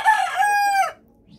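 A rooster, an Italian partridge or Australorp, gives a single loud, close crow lasting under a second, then quiet.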